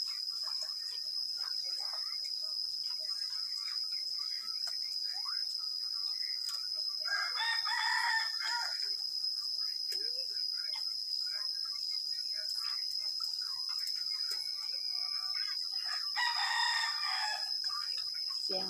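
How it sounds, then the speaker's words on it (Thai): A rooster crows among laying hens on a rural Thai farm, with two moderately distant crowing bursts over a constant high insect-like drone. "เสียงไก่ไข่นี่จ้ะไก่นี่จ้ะแบบว่าคันตลอดพี่น้องเลยคันทุกเวลาเลยทุกชั่วโมง"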